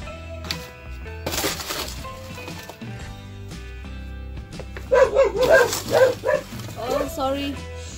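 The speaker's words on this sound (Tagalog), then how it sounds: "yung aso maingay" Dog barking at a passing neighbour outdoors at a rural home: a run of loud barks and yips in the second half, mixed with a voice speaking and background noise.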